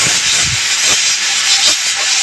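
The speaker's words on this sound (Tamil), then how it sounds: "இப்போ விசில் வந்த சவுண்ட் கேட்குதுங்க." A pressure cooker on a village kitchen stove lets out a loud, continuous steam whistle, a steady close hiss running without a break and with no talk.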